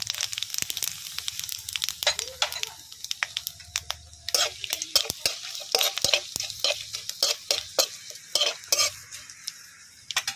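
Whole cumin and whole garam masala sizzling in hot oil, a crackling hiss under a dense run of sharp utensil taps and scrapes against the pan, close and moderately loud.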